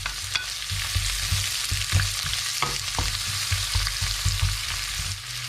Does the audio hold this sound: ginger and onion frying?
yes